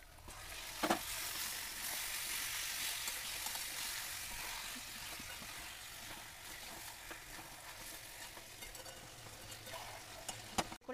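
Chicken meat hitting hot fried onions in a pan, a dense continuous sizzle that holds steady for several seconds, with a few sharp clicks of stirring.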